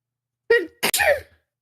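A single close, sharp human sneeze: a quick intake followed by an abrupt explosive burst, heard alone against silence.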